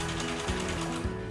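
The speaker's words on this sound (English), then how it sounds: "I'm gonna run it through the sewing machine" Sewing machine running a hem on a crop top, a brief, steady mechanical whir with a fast, even needle clatter, close and continuous, with no voices.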